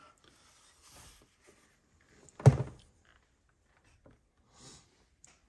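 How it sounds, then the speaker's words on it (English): A single sharp knock against a camera lands as a brief, close thump in an otherwise quiet space, with a few faint handling rustles around it. "And I'm knocking the crap out of my camera"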